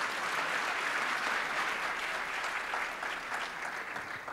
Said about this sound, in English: Can we get another round of applause for all of our startup demos?